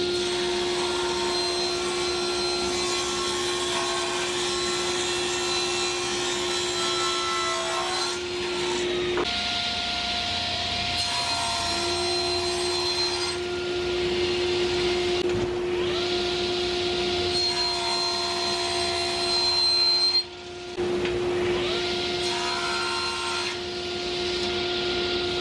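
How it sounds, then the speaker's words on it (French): A loud, steady whine of a table saw cutting wood pieces for a cabinet door, running continuously, with a sustained tone that drops away and returns as cuts are made. "Donc, je les taille au banc de scie selon mes besoins."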